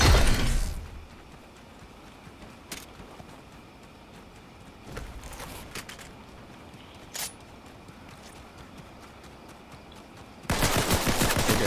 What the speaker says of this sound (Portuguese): É você que tá atirando em mim? Tem um cara atirando em mim aqui, ó.